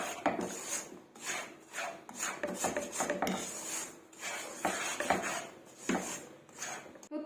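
Semolina being roasted in ghee in a wok (kadhai) while a utensil stirs and scrapes it, giving repeated rhythmic scraping strokes with light metallic rubbing, close and fairly quiet, with no talking.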